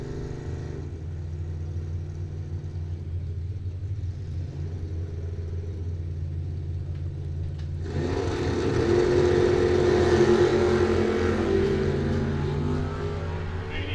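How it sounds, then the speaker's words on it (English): A 1987 Ford Thunderbird launches down a drag strip lane at a bracket race, its engine rumbling low before a louder roar swells from the middle and then eases off. "Zach will head down the JT Muffler lane here in the 87 Thunderbird"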